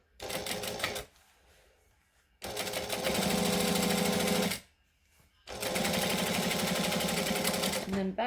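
A sewing machine stitches a gypsy bag seam at a 4 stitch length, running in three loud, steady bursts separated by short pauses, with back stitching between runs.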